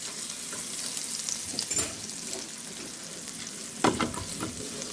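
Butter melting in a frying pan gives a steady, close sizzle with occasional stirring scrapes and brief louder bursts, no voices.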